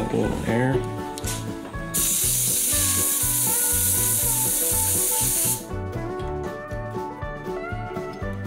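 An Andis Pulse ZR cordless hair clipper runs after a blade repair, giving a steady loud mechanical buzz with a gritty, rattling texture and a brief harsher hiss midway, no talk.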